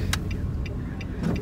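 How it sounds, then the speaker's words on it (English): Car driving on snowy, icy roads: a steady low tire-and-engine rumble with faint crunchy high-pitched ticks from snow under the wheels. "Driving in the snow."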